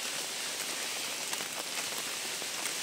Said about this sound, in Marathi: अरे आता बघ कसा पाऊस पडायला.